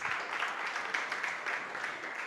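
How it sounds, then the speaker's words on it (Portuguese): A church congregation applauds: faint, distant, continuous clapping that stays at an even level for a couple of seconds. "Vamos aplaudir ao Senhor Jesus."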